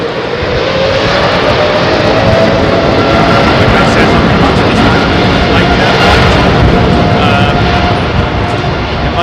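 A heavy airliner takes off from runway 27R at London Heathrow, its engine roar loud, dense and steady throughout with no break.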